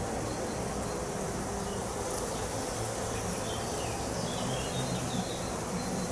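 Honey bees drone in a continuous, dense buzz while a hive is opened for inspection, a steady close swarm sound holding level throughout with no talk.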